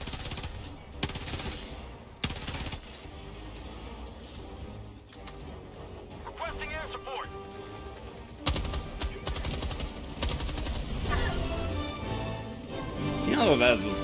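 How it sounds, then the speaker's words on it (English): Pistol shots and surrounding gunfire in the game Helldivers 2, sharp cracks landing in irregular bursts over a busy battle mix, with a player talking over parts of it. "Cool pistol, nice."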